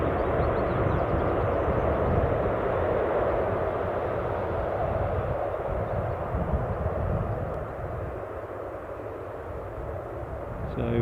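A jet airliner operating a short flight from Belfast, likely on an Aer Lingus route at Newcastle Airport, gives a steady, broad engine roar that holds loud throughout and eases slightly toward the end.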